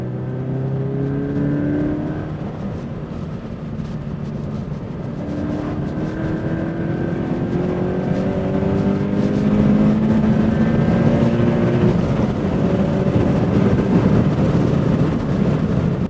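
A Toyota GT86 on a test drive revs hard through the gears, its engine note climbing in pitch several times with brief dips at shifts, loud and close from inside the car with no talk.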